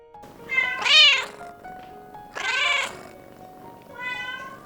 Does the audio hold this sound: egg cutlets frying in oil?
no